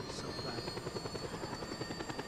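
A helicopter in the video game Just Cause 2, its steady, close rotor chop thumping at an even pace and droning loudly throughout with no talk on top.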